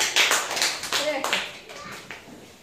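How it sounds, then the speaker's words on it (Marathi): Several sharp handclaps from a group of children in a classroom ring out in a quick, uneven burst, close and fairly loud, with faint voices underneath. "टाळ्या."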